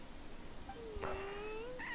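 A cat's single drawn-out meow, moderately loud against a quiet room, rising and holding steady before fading.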